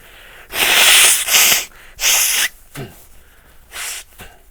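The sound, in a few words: sneeze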